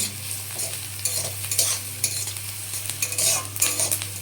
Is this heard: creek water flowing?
no